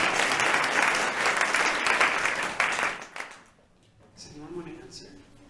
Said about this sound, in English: We're going to give Priscilla another round of applause.